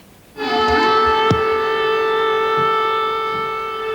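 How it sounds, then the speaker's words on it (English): A civil defense warning siren sounds over Tuzla, Bosnia, starting abruptly and holding a steady, loud multi-tone wail for several seconds, with a brief thud partway through and no talk. "The warning siren sounded over Tuzla this morning, a reminder that even here no one is safe from Serb guns."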